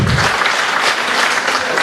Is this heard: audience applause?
yes